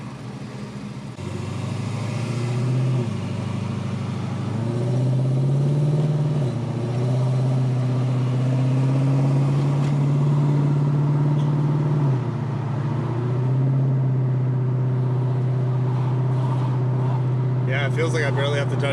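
An Infiniti Q45 with a new 3.692 rear end pulls up a hill, its engine droning steadily with rising pitch under continuous talk from the driver.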